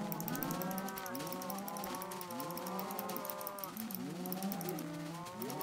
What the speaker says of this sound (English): Oh man, that is a lot of cows.